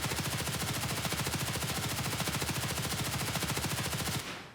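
Sustained automatic fire from an HK416 rifle in Escape from Tarkov, a rapid, even burst of loud shots lasting about four seconds before cutting off abruptly.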